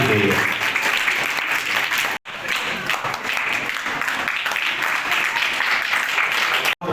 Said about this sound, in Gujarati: આપણે તાળીઓથી વધાવવાના છે વિદ્યાર્થીઓને